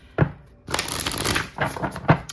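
Playing cards shuffled close to the microphone, a quick riffle and rustle of papery card edges framed by a couple of sharp taps.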